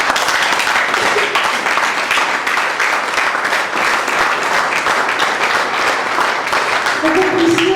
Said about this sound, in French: Je voudrais que vous applaudissiez pour les femmes.